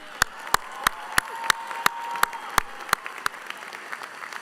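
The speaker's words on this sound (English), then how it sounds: "give our village a round of applause" Graduates and guests at a 2021 winter graduation ceremony applaud in sharp, evenly spaced claps that repeat steadily at a moderate distance over a faint room murmur.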